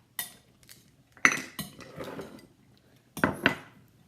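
Fresh basil and minced garlic are mixed in a bowl with a utensil, producing a few distinct clinks and scraping knocks against the dish separated by short pauses, close and fairly quiet with no talking.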